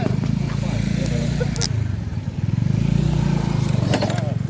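A small motorcycle engine runs close by with a steady, buzzing putter on an outing to a waterfall, loud and continuous while voices talk faintly over it.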